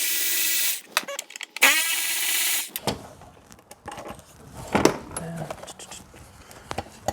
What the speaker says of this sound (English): now I'm going to use my 10 millimeter, take out these 2 bolts